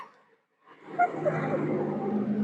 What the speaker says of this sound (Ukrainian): проїхала машина